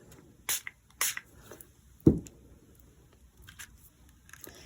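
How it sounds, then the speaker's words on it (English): A spray bottle spritzes water onto a watercolor painting, giving two quick close hissing bursts, then a knock and a few fainter spritzes in a quiet room. "See if I can spritz it"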